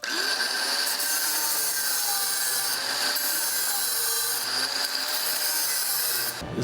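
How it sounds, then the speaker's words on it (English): An angle grinder with a grinding disc dresses a blob of weld on steel running boards, giving a continuous loud, harsh abrasive whine with brief dips in pressure, ending abruptly. "So let's just go right in with the grinding disc and dress that up."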